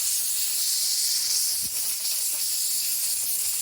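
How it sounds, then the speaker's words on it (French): Steady, loud hiss of a compressed air blow gun blasting at a car tyre treated with anti-puncture sealant, a continuous rush lasting the whole span with a brief dip midway. "on va voir ce que ça donne déjà avec un coup de soufflette"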